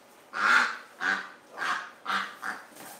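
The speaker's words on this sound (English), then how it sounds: "Just keep panicking, duck" A panicking duck gives a series of six harsh, nasal honking quacks in quick uneven succession, close and fairly loud, with no other sounds around them.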